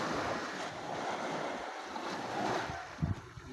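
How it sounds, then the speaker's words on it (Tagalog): Ocean waves wash steadily along the sea at Lubo, Batangas, a continuous near roar of surf mixed with wind buffeting the microphone, with a couple of brief knocks near the end. "Dito po kami ngayon sa karagatan ng Lubo, Batangas."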